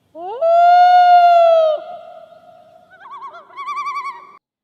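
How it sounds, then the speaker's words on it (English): Loon bird calls: a long, loud, rising wail that holds and then drops, followed by quieter tremolo yodeling phrases, clear and close with no other sounds. "Loon bird."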